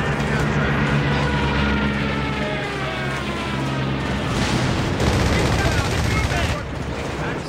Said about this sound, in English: Enemy planes, scatter.